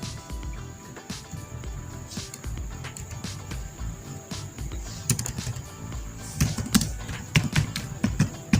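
Irregular clicks of typing on a computer keyboard, light taps with short pauses and a few quicker bursts near the end, close and fairly quiet.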